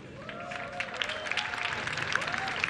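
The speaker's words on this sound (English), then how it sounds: "So let us always clap and cheer people" A crowd at a university graduation ceremony claps steadily, a dense, even patter that fills the space and sounds moderately distant. Faint cheers rise through it and a voice speaks over the top.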